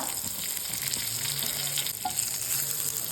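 Cumin seeds and curry leaves frying in hot oil, giving a steady close crackle and sizzle with light stirring and a faint background hum, no voices.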